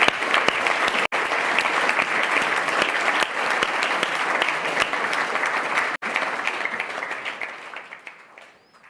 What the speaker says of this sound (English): A big applause for our panelists.